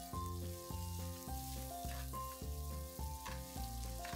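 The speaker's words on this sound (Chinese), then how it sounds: "放入辣椒爆香， 再放入干葱爆香，" Chili and shallots are stir-fried in hot oil in a wok over high heat. A continuous hissing sizzle runs beneath louder background music throughout.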